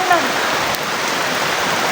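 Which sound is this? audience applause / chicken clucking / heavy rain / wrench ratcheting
heavy rain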